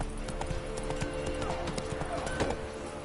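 Roach, a horse in The Witcher 3 video game, trots with steady clip-clop hoofbeats and gives a brief whinny, close and clear over a low ambient bed, with a faint voice.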